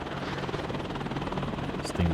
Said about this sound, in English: I'm going to try to use this helicopter to attack enemy units.